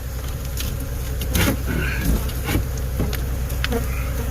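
Killer bees buzzing steadily during a hive removal in 25-degree cold weather, a continuous close insect drone with a few louder swells, alone without speech.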